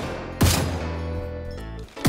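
Gunfire in the mobile battle royale game High Energy Heroes: a few heavy, punchy shots with a short rumbling tail between them, loud and close.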